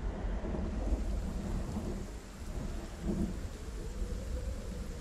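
A storm in the video game Project Zomboid brings steady rain with a low, continuous rumble of thunder, dense and even throughout, with no speech.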